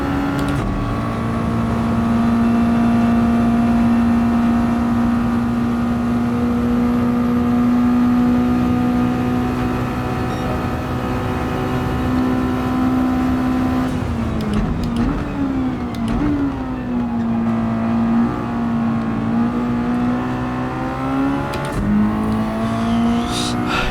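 A Mazda Roadster Touring Car racing at Deep Forest in Gran Turismo 7 gives a steady, loud engine drone that holds one pitch, dips and wavers mid-clip as the revs drop, then climbs back. It stays close and continuous throughout.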